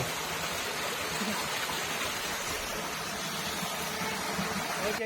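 Water flows steadily in a stream at Panchalimedu, a soft continuous rushing with no other sounds standing out.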